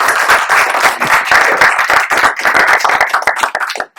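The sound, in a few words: audience applause and clapping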